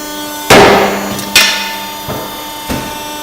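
A shop punch press punches holes with four sharp metallic impacts, the first two loud and ringing and the last two softer, each separated by a short pause.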